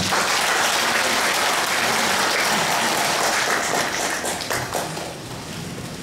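Loud, dense applause from an audience honoring a performer of a Korean War song, a steady wash of many clapping hands that fades slightly toward the end.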